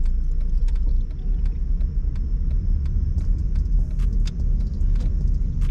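Steady low rumble of a car driving slowly during learner's permit practice, with faint jingling of keys over the continuous interior engine and road noise.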